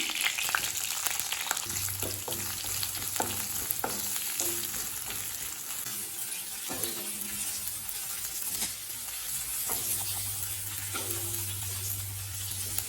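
Onion frying in oil with mustard seeds, cinnamon and curry leaves in a kadai, a constant close sizzle with occasional crackles and stirring scrapes, no talking.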